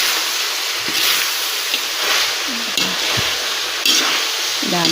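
Vegetables tossed into a hot pan for pansit puti, sizzling loudly and continuously up close, with repeated clanks and scrapes of a utensil stirring through the hiss.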